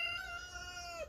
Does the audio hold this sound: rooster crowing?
yes